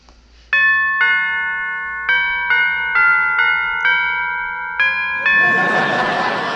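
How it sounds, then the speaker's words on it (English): A 1940s radio-show doorbell rings a multi-tone chime melody, several clear bell notes struck one after another and sustaining, ending as noise rises at the close. "I'll ring the doorbell."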